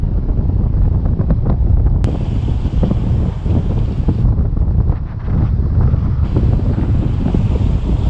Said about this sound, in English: In order to test how the cameras react to the wind, I attached them to my car window.